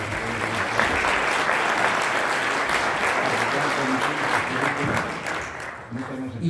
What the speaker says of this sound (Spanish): Demos un aplauso a Luis, por favor